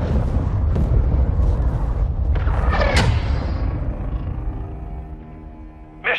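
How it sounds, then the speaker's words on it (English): In Call of Duty: Modern Warfare II, a cruise missile explosion roars loudly, a booming rumble with a rising whoosh that slowly fades, ending on a brief electronic tone. "Hostiles launched a cruise missile."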